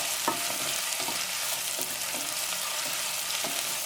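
Mustard seeds crackle and pop in hot oil, with a dense continuous sizzle broken by sharp, irregular snaps throughout, close and fairly quiet, no voices.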